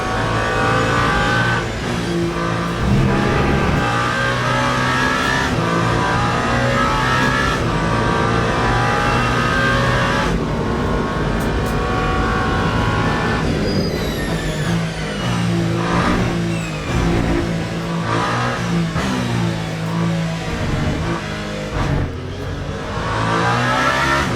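Mustang GT3 race car engine in the Le Mans Ultimate racing game during the 24 Hours of Le Mans, a loud sustained engine roar rising and falling through gear shifts with other cars passing nearby.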